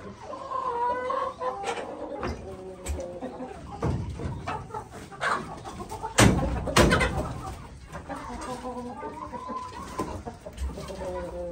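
Farm chickens cluck and squawk repeatedly at close range, with scattered rustling and bumps between calls and occasional louder flurries.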